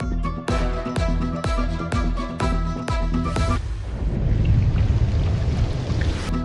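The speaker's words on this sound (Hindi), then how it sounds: "शहर के मुख्तलिफ इलाकों में मूसलाधार बारिश।" Heavy downpour across city streets, a dense steady hiss of rain rising in after a short musical passage and continuing unbroken to the end.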